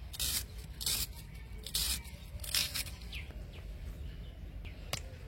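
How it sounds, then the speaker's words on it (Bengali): A knife chops onions in a row of faint, close, irregular cutting strokes, with no one speaking. "পেঁয়াজগুলা আমি কুচিয়ে নেব"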